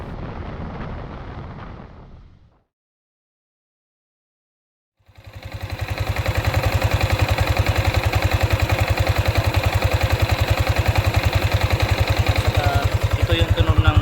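A Yamaha Sniper 155 VVA motorcycle about seven months old, on its original exhaust, idles after a brief pause, a close, steady, throbbing engine rhythm that runs unbroken to the end.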